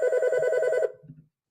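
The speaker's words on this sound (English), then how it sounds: "The phone's ringing off the hook right now" A telephone bell rings steadily and loudly for most of the moment, then cuts off abruptly, leaving a brief low murmur before silence.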